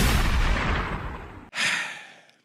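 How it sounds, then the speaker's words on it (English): A distant gunshot booms out, followed by a sharp cutoff and a second, shorter burst that fades away. The rolling blasts sound alone, with no talk. "hear the gunshot in the background, in the distance."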